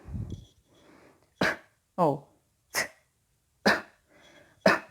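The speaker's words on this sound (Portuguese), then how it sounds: "se você der uma leve tossida" Several short, light coughs in a row during a singing lesson on diaphragm support, close by, separated by brief pauses, with a little talking at the start.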